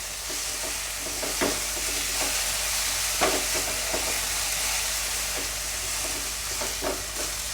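Potatoes fry in oil in a curry pan for a green pea and potato curry, giving a continuous hissing sizzle with scattered spoon scrapes and taps, close up and unvoiced.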